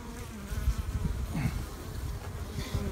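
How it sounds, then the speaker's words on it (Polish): A very large swarm of aggressive honeybees buzzes steadily inside an open hive, a dense, continuous drone heard close up with no talking. "Pszczoła jest bardzo agresywna. Natomiast rój jest bardzo duży."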